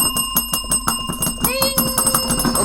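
A bell rings with a bright metallic tone, struck repeatedly in quick rhythmic strikes, loud and close, with a brief sliding ring partway through.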